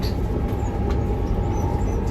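Steady rumbling roar from inside a moving passenger train carriage, a continuous low drone with faint rattles and no voices, heard close and loud throughout.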